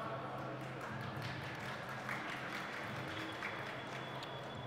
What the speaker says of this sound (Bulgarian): вашите аплодисменти за Джант